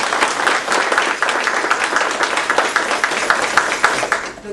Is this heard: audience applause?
yes